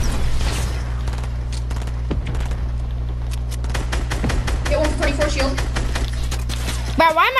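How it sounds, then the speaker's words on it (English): Rapid grenade launcher explosions and gunfire in a battle royale video game duo fight, dense bursts of blasts and crackling impacts over a steady low game hum, with voices talking throughout. "Their grenade launcher spam is crazy."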